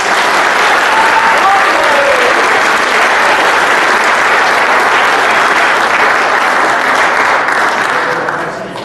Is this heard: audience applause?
yes